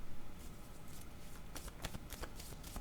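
Tarot cards being shuffled by hand, soft riffling and slapping strokes that speed up into several sharp, close bursts toward the end, recorded quietly.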